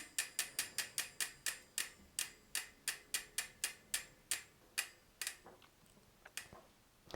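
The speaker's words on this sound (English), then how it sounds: "And now I'm looking for the spot, and for that I'm turning the wheel." A bicycle wheel with a disc brake rotor is spun by hand on the bike, its freewheel hub giving a fast, even run of sharp ratcheting clicks that slow and space out as the wheel coasts to a stop, close up and alone.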